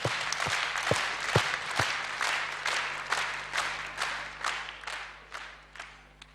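Scattered theatre audience clapping for Ashugh Razmar Sasuntsi at his 60th birthday event, a handful of louder individual claps standing out over a softer, steady patter of applause that gradually trails off.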